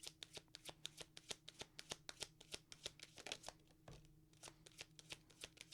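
Tarot cards riffle-shuffled in a fast, steady run of crisp flutters, close and clear, with a short pause midway before the rapid shuffling resumes.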